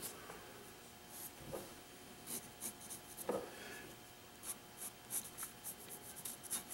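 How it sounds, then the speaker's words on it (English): A pencil scratches lines across a wooden carving blank, quiet close-up strokes coming in short irregular bursts with small pauses between them. "Let me draw my lines back in here again."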